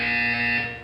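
A short, loud electronic buzzer tone from the Portal 2 game, holding steady for about half a second before fading.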